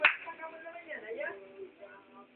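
A single sharp hand clap rings out at the very start to trigger a sound-activated switch, followed by a voice talking quietly.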